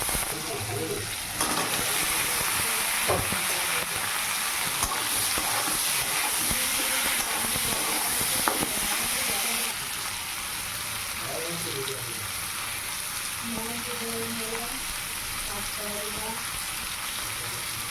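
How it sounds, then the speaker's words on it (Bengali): Cumin, bay leaf, grated ginger and tomato fry in a hot wok, a loud continuous hiss and sizzle with stirring scrapes near the microphone, easing slightly partway through; no one speaks. "ওই কড়াইতে ফোড়নে দিলাম জিরে তেজপাতা আদা গ্রেট করে আর দিলাম টমেটো"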